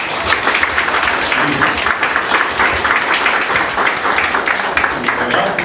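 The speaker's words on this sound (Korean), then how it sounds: "박수 한번 주세요." An audience at a Democratic Party political gathering in Busan claps in a dense, continuous burst of fairly loud applause, with voices mixed faintly into the clapping.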